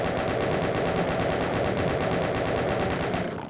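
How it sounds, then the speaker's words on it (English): Chaingun fire in The Ultimate Doom, a loud, rapid, unbroken stream of gunshots lasting several seconds before tapering off at the end. "Let's chain gun these pinkies first."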